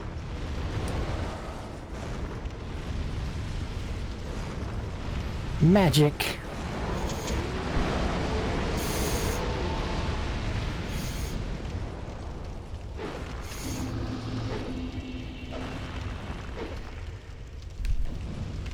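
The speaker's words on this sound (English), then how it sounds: "I seem to recall this fire dealing ludicrous damage, like significantly more than it should" Fire roaring in Dark Souls: Scholar of the First Sin, a steady rumbling blaze heard throughout, with a few sharp bursts flaring near the middle and end beneath a talking voice.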